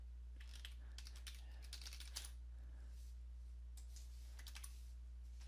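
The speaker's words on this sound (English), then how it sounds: "I'm going to type in my computer password" Someone types a password on a computer keyboard in a few quick bursts of soft key clicks over a low steady hum, fairly close and quiet.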